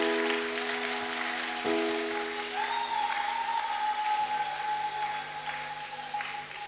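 A church congregation at a Sunday service applauds in welcome of new members, a dense, even wash of clapping that fills the room throughout, with a sustained tone over it partway through.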